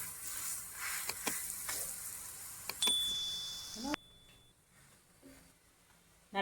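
Aloo paratha frying in ghee on a hot pan just after being flipped, a steady close sizzle with a few sharp scraping clicks, then the frying quiets abruptly partway through.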